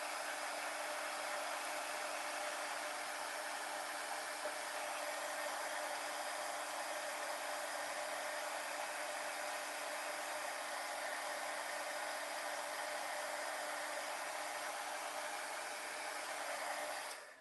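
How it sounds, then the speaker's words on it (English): Electric heat tool blowing steadily to heat-set embossing powder on a handmade card, a constant loud whooshing hiss that runs unbroken and cuts off at the end. "Okay, now we'll heat set these really quick."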